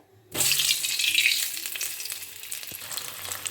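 Potatoes fry in hot oil in a wok, giving a loud steady sizzle that starts abruptly and carries on with faint scraping from stirring, no voices.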